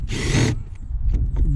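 A power tool spins briefly to remove a bolt on the intake of a Hyundai Elantra during an intake pressure sensor replacement: one short, sharp whir, then faint handling noises.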